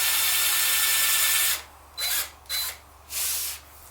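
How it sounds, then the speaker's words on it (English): Power drill boring holes for eyelets in a pack, heard as three short close bursts of whirring after a steady background hum. "So anyway, drill these holes"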